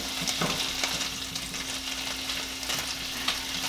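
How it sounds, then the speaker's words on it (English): Lit'l Smokies sausages frying in a pan give off a steady, close sizzle and crackle with small spitting pops and occasional stirring, with no talk. "So I'm just going to cook them all up in the pan here"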